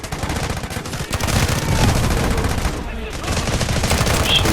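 Rapid, continuous gunfire from the video game Delta Force during a battle, dense overlapping bursts close and loud throughout, with a brief dip before the shooting resumes.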